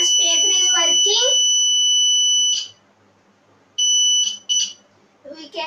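The buzzer on a homemade continuity tester sounds in two bursts, a long tone followed after a gap by a shorter one. Someone talks over the first buzz and again near the end.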